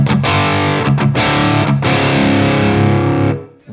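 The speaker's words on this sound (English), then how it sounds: "This is the dual rectifier crunch tone." An electric guitar plays through an HM2-style distortion pedal set to a Dual Rectifier crunch tone with moderate gain, sounding loud, thick and saturated as a few chords are struck and then ring out before cutting off.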